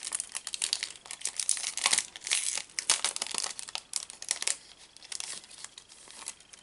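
Crinkly plastic sticker-pack packaging being unwrapped, a close, continuous run of crackling and crumpling with brief tearing bursts and no voices.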